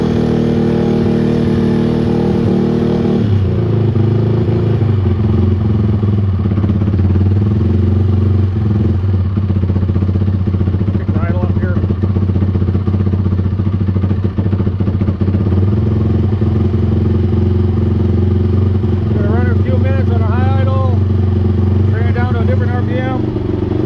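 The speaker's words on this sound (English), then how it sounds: "the new pipe's a little bit loud. I'll bring her down a little bit, 10 RPM." A Honda TRX450R quad engine idles steadily with a new, somewhat loud exhaust pipe fitted during cam break-in, a continuous close rumble with slight rev changes while someone talks over it.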